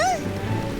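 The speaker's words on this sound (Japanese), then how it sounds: "雨が少し弱くなったみたい。" Steady rain falls in a Japanese children's animated train cartoon during a typhoon, a continuous soft hiss of drops opening with a brief rising whistle-like tone.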